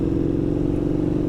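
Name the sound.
motorcycle engine revving with the exhaust baffle removed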